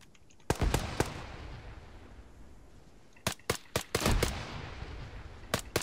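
Gunfire in the military video game Antistasi: sharp shots in two bursts, a quick few, a pause, then a rapid cluster and a late pair, loud and close over a steady background hiss.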